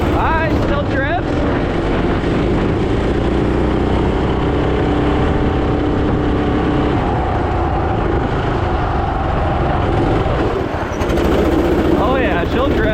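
Turbocharged 420cc go-kart drifting, a loud, rough engine roar that rises and falls with throttle blips, tire scrub and wind noise close up, with brief excited talk mixed in.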